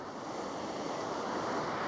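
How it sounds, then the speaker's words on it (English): Big ocean surf crashes and churns against rocks, a loud, continuous roaring wash with wind noise buffeting the microphone, steady and close with no voices. "Gotta watch the waves, bro."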